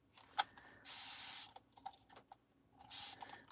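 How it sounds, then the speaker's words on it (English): Two short hissing bursts of water from a spray bottle, close by, separated by soft clicks and light handling noises in a quiet room during watercolor painting on a t-shirt. "Just spray some water"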